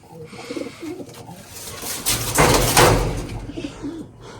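Pigeons at a pigeon club coo in soft, repeated throaty calls close by, with a rustling burst of wing flaps or movement in the middle.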